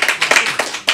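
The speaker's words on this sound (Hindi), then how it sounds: "तालियां तो बजाओ।" Audience clapping at an open mic poetry night, a short burst of close, sharp hand claps in a loose rhythm with no voices.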